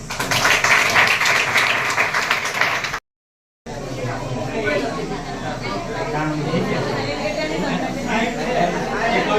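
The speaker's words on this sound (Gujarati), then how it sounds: "એને માટે એક જોરદાર તાળી" Loud applause and cheering from a school audience at a high school notebook distribution event in Bhatpur, with dense crowd chatter mixed in, cut by a brief silence before the clapping and hubbub continue steadily.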